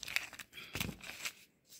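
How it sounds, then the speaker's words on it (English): Dried paint skins peel off a smooth surface in a few short, close, quiet crinkling and tearing bursts, with no talking. "So they just peel right off."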